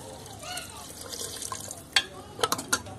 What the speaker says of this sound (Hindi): अब हम गोश्त में पानी डालकर